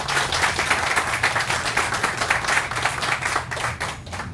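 Lively clapping from a gathered audience at a local demolition project event in West Carrollton, applauding Kettering Health, with steady, closely spaced claps throughout.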